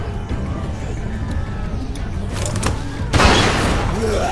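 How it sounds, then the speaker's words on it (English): A single loud gunshot blast from The Walking Dead video game goes off about three seconds in, over a busy background of game ambience and low rumble. "Fire the fucking gun!"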